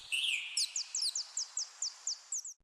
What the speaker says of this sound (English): The mother bird circled Ruby and Finn, chirping her thanks, before flying away with her precious baby.